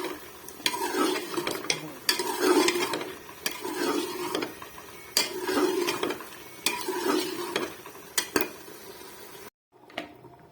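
Desi chicken being stirred and fried in desi ghee, with repeated scraping strokes of a utensil against the pan over a steady sizzle, close and fairly loud, ending in a brief pause and a final clink.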